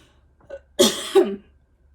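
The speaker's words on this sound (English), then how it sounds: "I'm going to cough a little bit" A single person coughs twice in quick succession, close and fairly loud, with a faint throat sound just before and quiet after.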